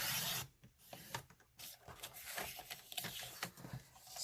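A paper trimmer blade cuts through cardstock in short, close rasping strokes with brief pauses between them, soft and scratchy with no voices.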